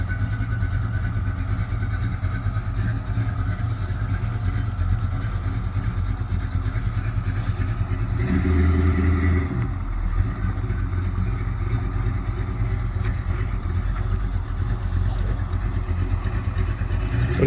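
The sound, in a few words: 1987 Chevy S10 V8 driving out of garage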